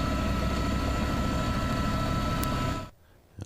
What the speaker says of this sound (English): Got the chopper in the air.